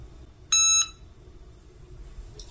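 A heat press timer gives one short, bright electronic beep as its countdown runs out, loud and close in an otherwise quiet room.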